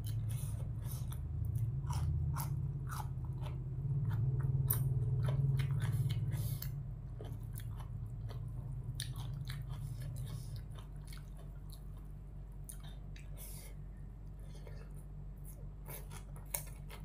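Thai rice noodles with fermented fish sauce (pla ra) chewed close to the mic, with wet repeated crunching and slurping bites over a steady low hum.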